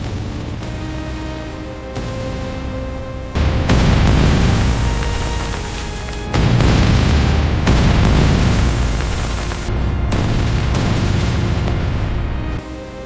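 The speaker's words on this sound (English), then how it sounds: "Luckily there was no enemy opposition, and the bombs were dropped." Bombs from a World War I bombing raid exploding on a rail junction, heard as a series of deep, heavy booms swelling and rolling one after another over a sustained low rumble.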